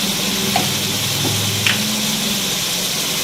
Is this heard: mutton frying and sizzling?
yes